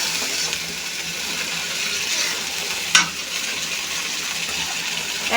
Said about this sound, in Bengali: এটা মিশিয়ে আবারও কষিয়ে নেব।